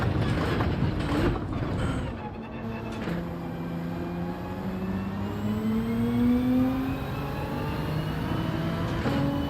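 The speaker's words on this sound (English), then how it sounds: "I should really pull away in second there, but there's so much wheel spin" A race car's engine revs and whines in Gran Turismo at the Red Bull Ring, its pitch climbing through wheelspin over a rumbling mechanical bed, with faint rising tones from other cars.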